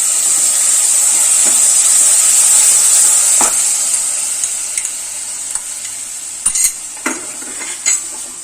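Batter frying in a pan over a gas flame turned down low, giving a steady, close hiss and sizzle with a few faint utensil clicks near the end.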